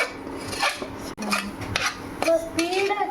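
Chicken salna being stirred in a metal cooking pot, close clinking and scraping of a utensil against the pot in uneven strokes, with a voice briefly heard in the background.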